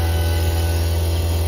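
A vacuum pump evacuates the refrigerant lines of a Rheem 4-ton outdoor central air unit after a Copeland compressor replacement, giving a loud, steady low motor drone with a constant hum, close by and without talk.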